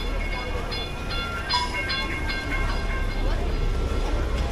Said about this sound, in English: you've got these little trains that people can take with their kids.